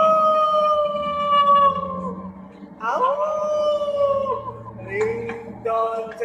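A ghost dog ringtone plays loud, drawn-out, wavering howls that rise and fall one after another. A voice speaks briefly alongside the howling.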